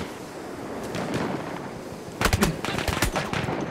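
Gunfire and machine-gun bursts in the World War I shooter Battlefield 1, with sustained rapid shots breaking in loudly over a constant battle din in the second half.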